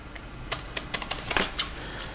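Scissors snip the corner of a paper album page in a quick series of sharp, close, faint cuts, about a dozen brief clicks in irregular rhythm.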